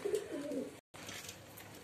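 Pet pigeons, recently recovered from illness, coo in low, soft, rolling calls nearby, with a brief gap of silence partway through and faint background noise.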